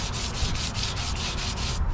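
Car clear coat being wet-sanded with a 220 grit sanding block, close, loud rhythmic back-and-forth scraping strokes in a quick, even cadence.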